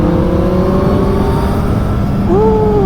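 Loud, close Kawasaki Z800 motorcycle engine revving in everyday riding, a rising whine that holds and then climbs again in pitch near the end.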